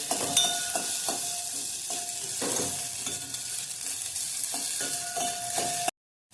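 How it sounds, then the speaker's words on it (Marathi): Sago pearls roasting in ghee for a sweet fasting khichdi, a gentle even sizzle with a run of metallic spoon taps and scrapes against the pan, ending in a sudden cut to silence. "एक मिनिट आपण आधी शाबू भाजून घेऊया"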